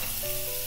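Two spoonfuls of coconut oil sizzling in a hot frying pan before beef goes in, a short, steady crackle heard alone.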